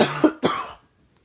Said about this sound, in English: I can't wait till this cough's over with.